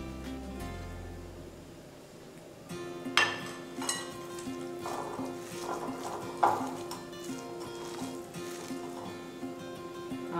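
Ground lentil batter for parippu vada is mixed in a bowl with crushed spices, giving soft wet squelching and scattered clinks and knocks against the bowl, close and fairly quiet, with faint background hum.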